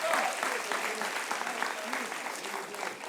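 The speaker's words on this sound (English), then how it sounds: "why don't you give them a round of applause?" Applause from an audience at a church service fills the room at a moderate, fairly distant level, steady clapping with no clear speech over it.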